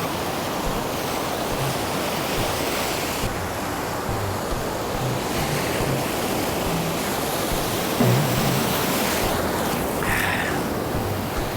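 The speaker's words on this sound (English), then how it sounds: "the waves are a little big today, so we're gonna get wet." Surf breaking and washing onto a beach at night, a steady broadband roar with swells building and receding; a short louder wash lands around the eighth second, with no voices.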